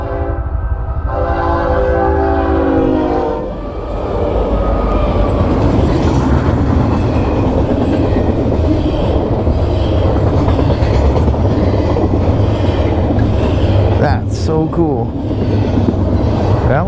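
A train rolls past on the track close by, a loud sustained rumble and clatter opening with a blaring horn, with excited voices talking over it.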